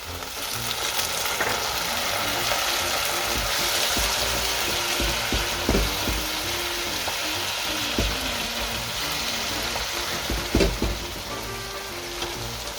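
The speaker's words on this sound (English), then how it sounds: "The onion and the garlic is cooked, so now we go in with the beef." Beef hits a hot pot of cooked onion and garlic for a spicy stew and fries in a steady, loud sizzle, with occasional scrapes and clicks of stirring cutting through the continuous crackle.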